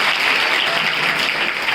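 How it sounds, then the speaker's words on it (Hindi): An assembly at a school Hindi fortnight inauguration breaks into a dense burst of applause for a student, steady and fairly loud from start to finish, with no voices over it. "डबल ताली बजाइए इस बच्चे के लिए"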